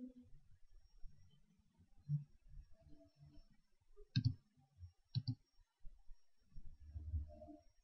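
Computer mouse clicks while building a text lighting effect in editing software, two sharp distinct clicks near the middle over quiet background murmur.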